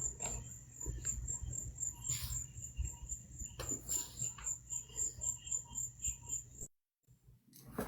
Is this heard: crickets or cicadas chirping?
yes